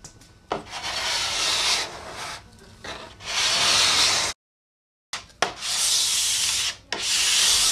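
A scraper pulls wax off a snowboard base in long, close, loud rasping strokes, several in a row, with one brief silent gap between them and no talking.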